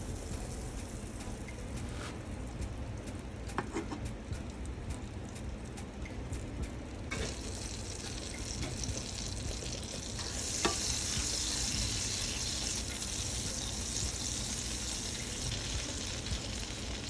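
Butter melting in a pot for a creamy garlic butter sauce, a continuous close sizzle with a few stirring taps early on, growing a little brighter and louder partway through, no voices.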